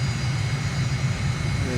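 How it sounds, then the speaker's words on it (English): Airliner engines roar at takeoff power on runway 18 left at Boryspil airport near Kiev in Microsoft Flight Simulator, a steady, loud low rumble with a faint whine above it. "taking off from runway 18 left again"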